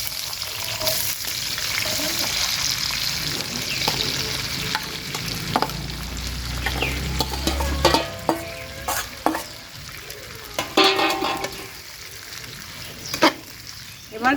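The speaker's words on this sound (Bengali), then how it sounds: "রসুন, কাঁচামরিচ ভেজে নেব।" Chopped onion, garlic and green chilli sizzle steadily in hot oil, a continuous close frying hiss with occasional stirring scrapes and small pops, no talking.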